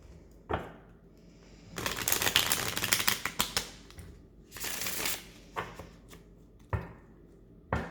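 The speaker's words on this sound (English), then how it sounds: "Okay, so I'm clearing the deck" Vintage wisdom card deck shuffled by hand in bursts of dense riffling and crisp papery slaps, with quick taps and pauses between, close and fairly loud.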